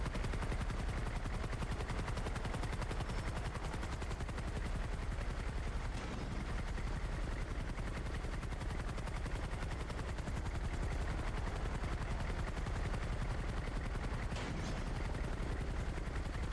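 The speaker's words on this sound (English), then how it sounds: "Helicopter's going fucking crazy." Steady helicopter rotor thrum from a GTA FiveM roleplay video game, continuous and loud throughout with rapid chopping pulses and gunfire-like bursts mixed in, no talk over it.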